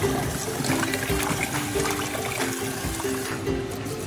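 Beef neck bones washed in water, a continuous close splashing and trickling rush of running water throughout, with no voices.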